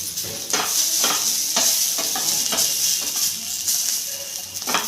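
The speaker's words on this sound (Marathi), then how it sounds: "धने परतून घ्यायचे पण थोडीशी तेलावर भाजून घेणार आहे" Coriander seeds roasting in a little oil, a loud, close, continuous sizzle broken by regular scraping strokes of a spatula as they are stirred and turned.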